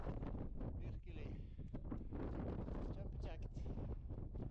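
Strong wind roars across a mountain summit on Urdfjellet in Haram, buffeting the microphone with a continuous, loud, gusty rumble that never lets up across the whole stretch.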